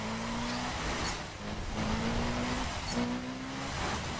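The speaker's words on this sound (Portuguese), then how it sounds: "Faz uns drift maneiro na estrada aqui, rápido" A car drifting on a road in The Crew, with a loud continuous engine drone and a steady droning tone that repeats in long stretches, plus brief hissy bursts, close and without talk.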